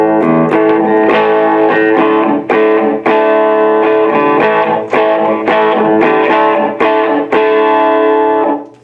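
Distorted electric guitar chords ring out through the boost channel of a Krank Rev Jr amplifier, strummed in a steady chugging rhythm, loud and close with no talking.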